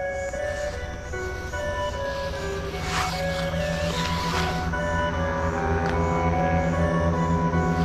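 Honda Titan motorcycles, a 190cc and a 170cc, approach with a steady low engine drone that grows slightly louder, heard from a distance without talk.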